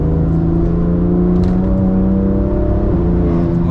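A BMW M2 CS drives at night while its tyres are warmed up, its engine a loud, close, steady drone that shifts slightly in pitch near the end, with no voices.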